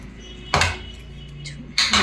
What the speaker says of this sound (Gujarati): આવી રીતે ભાજી મેકરથી એકદમ સરસ માવો બનાવી લેવાનો